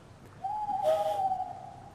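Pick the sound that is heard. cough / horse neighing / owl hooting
owl hooting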